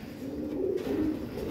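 Caged pigeons coo steadily through a low, continuous murmur, sounding unsettled after a cage change, close and moderately loud with no talking.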